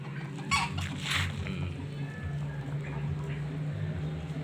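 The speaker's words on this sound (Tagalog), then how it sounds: "Naglalabas ng mga manok" Chickens cluck softly in a rural yard, a few brief calls rising over a steady low hum and background murmur, with faint voices nearby.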